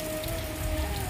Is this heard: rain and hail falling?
yes